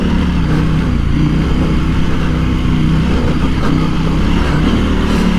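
A Husqvarna Norden 901 (2022) motorcycle engine pulls and accelerates, a loud continuous rumbling drone sustained close by throughout, with no talk.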